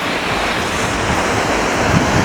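Strong wind gusting across open water at a trout fishing spot, a loud continuous broadband rush with surf-like wash and no pauses.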